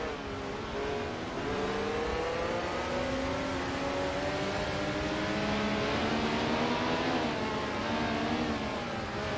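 Race cars, including a Ferrari and a Porsche, in a racing video game, with a continuous droning engine whine whose pitch slowly rises and falls as several cars run together, steady and fairly loud, with no voices.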